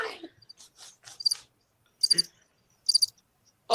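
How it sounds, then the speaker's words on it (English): Sharp, high cricket chirps in short separated bursts, a few quick pulses followed by longer pauses, clear against near silence and fairly close. "Did y'all hear my crickets?"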